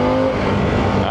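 A 2024 Harley-Davidson Pan America engine held at high revs, loud and close, a steady droning roar with slight pitch wavering throughout.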